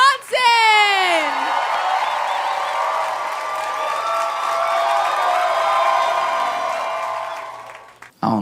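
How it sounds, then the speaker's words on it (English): A comedy club crowd bursts into loud applause, whoops and cheers as comedian Josh Johnson takes the stage. The roar holds strong and steady for several seconds, then drops off sharply near the end. "Y'all start clapping right now. Give it up for Josh Johnson."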